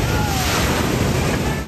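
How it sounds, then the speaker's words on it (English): A monster ocean swell driven by an offshore storm crashes onto the California coast and over sea walls, a loud, continuous roar of surf and spray with wind buffeting the microphone. "Waves of up to 10 metres exploding over sea walls."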